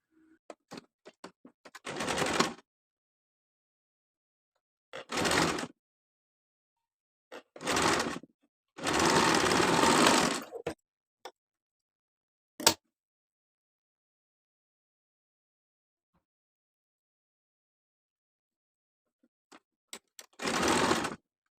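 Short bursts of a home sewing machine stitching the folded-in edge of a simple frock, about five separate runs of a few seconds each, the longest near the middle, with silent pauses between and a single sharp click.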